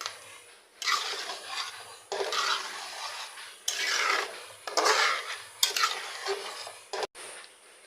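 A spatula scrapes and stirs fried katla fish head in a pan for muri ghonto with moong dal, in repeated loud bursts of scraping separated by short pauses, close by with no speech.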